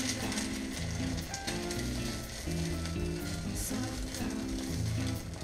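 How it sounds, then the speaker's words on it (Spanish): Small quail egg frying in a nonstick pan, a steady, close crackling sizzle that continues without a break. "ahora lo que vamos a hacer es echar el huevito a la codorniz, que esto se va a hacer en un boleo"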